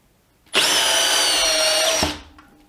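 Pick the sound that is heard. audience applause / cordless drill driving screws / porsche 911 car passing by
cordless drill driving screws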